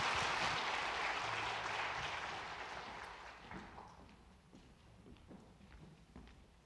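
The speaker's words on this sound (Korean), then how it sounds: "다 함께 큰 박수로 축하해 주시기 바랍니다." A church congregation at a Sunday worship service breaks into loud applause, the dense clapping strongest at first and then thinning into scattered claps as it dies away.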